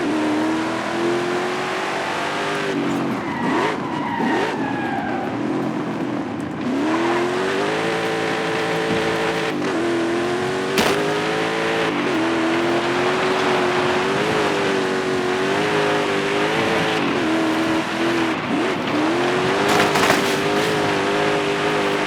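A Toyota Land Cruiser AT37 drifting in the Forza Horizon 5 racing game, its engine droning and revving steadily throughout with rising and falling pitch, loud and close, with occasional brief tire squeals and no talk.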